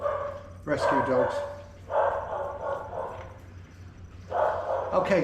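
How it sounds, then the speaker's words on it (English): Several rescue dogs bark in bursts of rapid, fairly close yapping, three clusters separated by brief pauses, with a voice speaking among them. "Rescue dogs."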